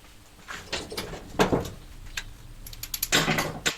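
Springs are pulled off while a washing machine is taken apart for scrap: metallic clanks, rattles and scraping clicks come in irregular bursts, close and moderately loud, with no talking.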